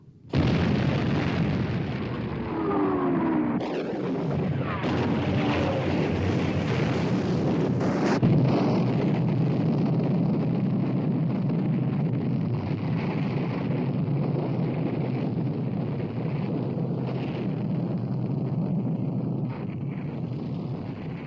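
Battleship naval guns firing in a World War II sea battle film about the Bismarck, a heavy blast followed by a long, sustained roaring rumble of gunfire and wind at sea.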